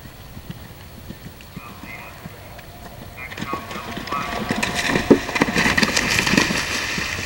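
An Arabian cross horse gallops over a cross-country course at a three-day eventing competition, its hoofbeats growing louder and closer in the second half, with a commentator talking throughout.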